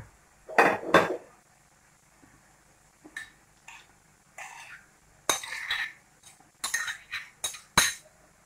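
Minced meat spooned into a gratin dish, heard as a string of light clinks and scrapes of a utensil against the dish, with two louder knocks near the start and a busy cluster toward the end, close by and alone.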